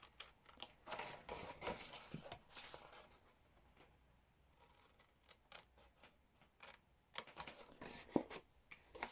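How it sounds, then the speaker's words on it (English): Small scissors snipping paper while trimming a rectangle for a slimline cracker box, a run of crisp close cuts, a quieter pause, then another burst of snips, all fairly faint. "I think I would have been better off with bigger scissors."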